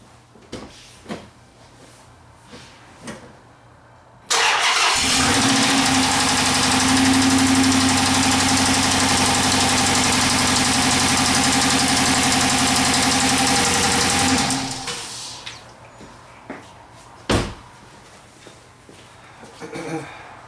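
A Chrysler 300 engine with a misfire cranks and catches, then idles loudly and steadily with a slightly uneven beat for about ten seconds before shutting off, leaving faint clicks and rustling.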